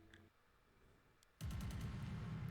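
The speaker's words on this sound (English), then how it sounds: "The fireworks are going off" Fireworks go off in the visual novel game Angels With Scaly Wings: after a quiet stretch, a sudden rapid burst of crackling pops breaks out and keeps going in a dense, loud string.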